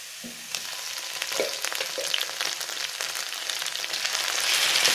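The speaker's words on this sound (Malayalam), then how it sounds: "സവാള ഒന്ന് വാടി വരുമ്പോൾ ഏത്തക്കായും കൂടെ ചേർത്ത് കൊടുക്കാം." Onion and raw plantain sauté in a pan with a crackling sizzle that grows louder and denser toward the end, punctuated by a few utensil scrapes and taps, close and with no talking.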